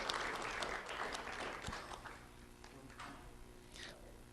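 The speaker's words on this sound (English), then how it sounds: "Let's have a round of applause for Liam" Applause from an audience at a Lee County Sheriff's Office recognition event honoring a Pine Woods Elementary student, steady moderate clapping that thins slightly toward the end.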